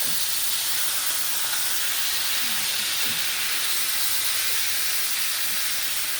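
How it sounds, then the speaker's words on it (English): Gyro meat searing in a hot skillet, a loud, steady broadband hiss of sizzling fat that stays even and close for several seconds, with no talking. "you want to sear this real good in the skillet"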